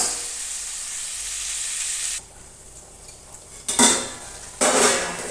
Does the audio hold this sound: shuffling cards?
no